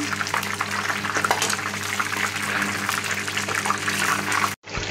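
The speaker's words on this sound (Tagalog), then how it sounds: "habang nagpiprito tayo" Continuous sizzling and crackling of chicken frying in hot oil in a pan, close and steady, over a low background hum, cutting off abruptly at the end.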